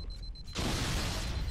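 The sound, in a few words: explosion in video game Halo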